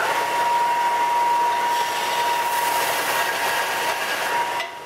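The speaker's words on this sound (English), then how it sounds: "I take it over here on the bench sander and I even them up." A bench sander evens up formed aluminium brackets for an experimental aircraft build, with a steady loud whirring drone and faint abrasive hiss throughout. The sound drops slightly at the very end.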